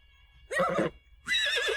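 Horse in The Sims 4 video game giving two loud, close neighs, a short whinny followed by a longer one after a brief pause, over a faint steady background tone.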